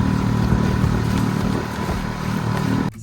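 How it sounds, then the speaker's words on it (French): Outboard motor pushing a canoe along on a gusty day, a steady loud mid-range engine drone running throughout and cutting off sharply just before the end. "Je regrette aucunement d'avoir apporté ce moteur-là sur ce canot-là."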